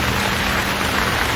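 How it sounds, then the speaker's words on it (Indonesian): Steady, dense rain falls continuously, a loud, even hiss of drops with no pauses and no voices. "Hujan turun."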